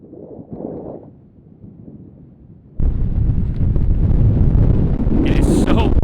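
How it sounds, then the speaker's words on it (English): Strong gusts roar and buffet the microphone at the Royal Gorge Bridge near Cañon City, Colorado, quieter at first and then suddenly loud and continuous. "It is so windy out today."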